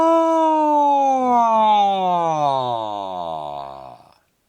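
A single sung voice slides its pitch down, rises, then falls again in one smooth continuous glide, fairly loud and alone, fading at the end.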